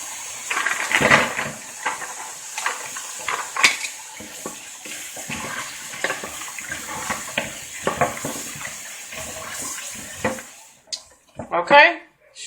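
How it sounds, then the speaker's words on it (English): Frozen raw, deveined shrimp are rinsed under running tap water in a strainer, with a steady spray and hiss broken by metallic clinks and rattles as they are shaken and handled, and a voice speaks at moments. "shrimps are rinsed off"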